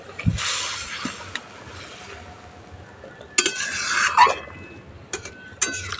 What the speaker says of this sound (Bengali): ভেজে রাখা পটল আর আলুটা দিয়ে দিচ্ছি।